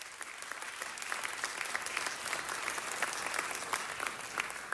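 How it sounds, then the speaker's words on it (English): A room full of people applauds the office staff at a civic gathering, a faint, continuous wash of many hands clapping at a distance, steady throughout with no speech. "Give them a round of applause."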